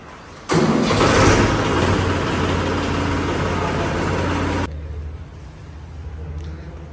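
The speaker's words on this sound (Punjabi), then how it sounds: "ਲੋ ਜੀ ਬਾਈ ਪ੍ਰਧਾਨ ਜੀ ਸਟਾਰਟ ਕਰਨ ਲੱਗੇ ਦੂਆ ਟਰੈਕਟਰ" A new tractor's engine cranks and catches with a sudden loud start, then runs at a steady, rumbling idle before dropping to a quieter chug.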